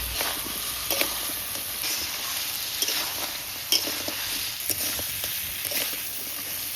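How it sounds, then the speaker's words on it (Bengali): Crab sautéed with fried potatoes and spices sizzles in a steady close hiss, broken by regular scraping stirs and a few sharper clacks of the spoon, with no talking. "খুব ভালোভাবে কষানো হয়ে গেছে আলুর সঙ্গে মশলার সঙ্গে কাঁকড়া দিয়ে"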